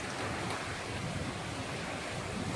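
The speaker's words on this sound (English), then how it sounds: "And the wind's picking up." Steady roaring wind gusting outdoors during Hurricane Irma with power out, a dense broadband rush that stays loud and constant throughout, with no voices.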